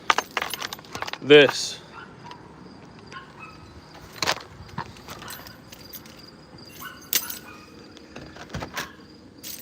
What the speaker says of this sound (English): Dropping keys.